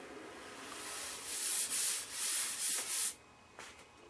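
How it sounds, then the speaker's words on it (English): Light sandpaper strokes over dried lacquer sanding sealer on a Philco 38-62 radio cabinet, a steady series of soft scratchy swipes close up, fading into quiet at the end. "I can do a little light sanding"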